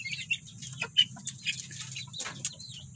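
Bantam chickens cluck and chatter up close in short bursts, with soft scratching and a low hum in the background.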